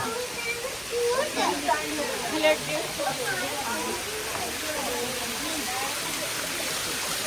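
Water streams past stones laid in its path, a constant broadband rush that stays steady throughout while several people talk over it.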